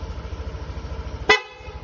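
A single short, sharp honk from a PIAA horn on a Yamaha Aerox V3 scooter cuts in over a low idling engine rumble, close by.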